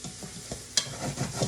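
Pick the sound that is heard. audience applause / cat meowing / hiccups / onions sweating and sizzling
onions sweating and sizzling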